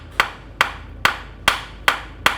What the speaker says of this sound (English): I like to take a hammer and I'm just gonna tap the aluminum here